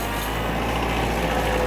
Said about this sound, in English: I'll dig a hole with my tractor with this silly little bucket on the front